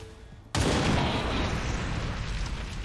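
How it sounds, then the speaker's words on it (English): An explosive round detonates in XCOM 2, a sudden loud blast that hits after a quiet moment and trails off into a long, rumbling roar. "Oh, an explosive round."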